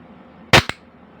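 A single sharp report from an Umarex Glock 17 Gen 4 black air pistol, loud and close, followed quickly by a fainter second crack, with quiet room tone before and after.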